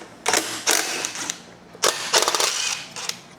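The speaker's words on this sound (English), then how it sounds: "Remove the top bolt." A wrench working the top exhaust bolt off a Ninja 500 motorcycle, two close bursts of rapid metallic ratcheting clicks, each split into short runs with brief pauses between.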